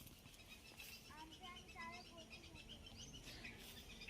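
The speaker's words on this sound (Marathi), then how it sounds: "पक्ष्यांचा आवाज येते चू चू चू चू चू चू चू चू चू चू." Birds chirping on a farm, a run of short repeated high tweets in the middle of the stretch, fairly faint over steady background noise.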